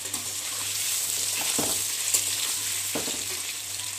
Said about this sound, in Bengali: এখন এটা আমি ভেজে নিচ্ছি। তেলটাও আমার গরম হয়ে গেছে। ভালো করে একটু লাল লাল করে ভেজে নেব আলুগুলোকে।